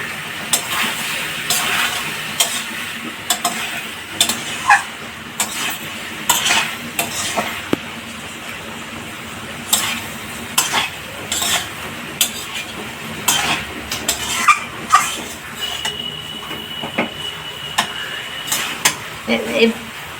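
Chillies hit a hot pan while an ol dalna is cooked, sizzling under frequent clattering stirs and scrapes of a metal utensil against the pan that recur irregularly throughout.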